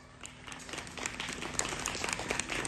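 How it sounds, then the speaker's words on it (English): An audience applauds donors at a charity donation event, clapping that starts moderate and builds to a fuller, louder round of many hands. "Let's begin the donation with a big round of applause for all our donors."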